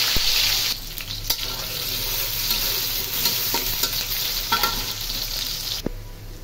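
Onion and garlic frying in hot oil, a steady loud sizzle that holds across the whole stretch, broken by a few sharp clinks and scrapes of stirring, with no voices.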